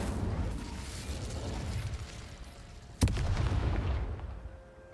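Fiery spell burst in the Hogwarts Legacy video game: a sharp crack at the midpoint releases a loud whooshing roar that persists, over a dense rumbling game soundscape.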